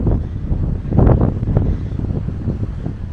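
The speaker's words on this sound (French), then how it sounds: "Il y a toujours beaucoup de vent, hein." Strong wind blowing on the Brittany coast near the Bay of Suscinio, buffeting loudly and roughly against the microphone in gusts, with the ocean nearby.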